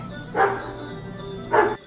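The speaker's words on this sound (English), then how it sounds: "After him, Daddy Dog! After him, boy" A mongrel dog gives two short, loud barks about a second apart, close by, over a faint steady background hum.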